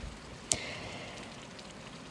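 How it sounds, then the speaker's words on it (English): Soft rain ambience pattering steadily in the background, with a single sharp click near the start. "I added the rain for it to add like a realistic ambience"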